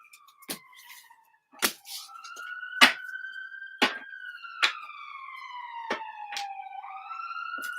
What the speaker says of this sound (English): Sorry, that's the ambulance in the background.